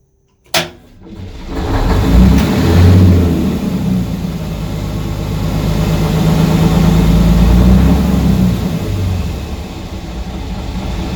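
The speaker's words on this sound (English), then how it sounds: "Okay, we've started the engine" A heavy locomotive diesel engine cranks over with a sharp clank, then settles into a loud, deep, rumbling idle close by.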